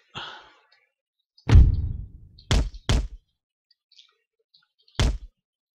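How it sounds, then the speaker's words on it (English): Mortar fire in Empire: Total War, a few isolated dull thuds and booming reports with short decays, sharp and fairly close against otherwise quiet surroundings. "he's still firing his mortars at us"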